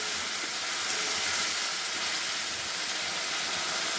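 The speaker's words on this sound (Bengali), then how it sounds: "মশলাটা ভালো করে আমি কষিয়ে নেব" Spice paste sizzles as it is sautéed in a pan for a prawn and pointed gourd dish, giving a steady, dense hiss that holds evenly from start to finish, with no talking.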